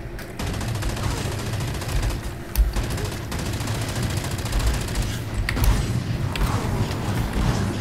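Rapid automatic gunfire from the Thumper, a long-magazine Dreadnaught weapon in the shooter Firefall, sounds as a dense continuous stream of shots with a few heavier thumps and brief pauses.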